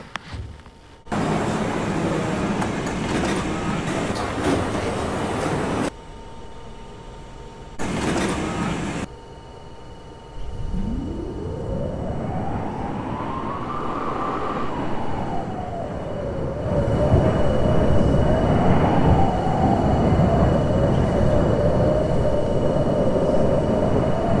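A New York City subway train in a Roblox simulator on the B/D lines: doors slide shut with a chime, then the train starts off with a rising motor whine that climbs and settles into a steady running roar.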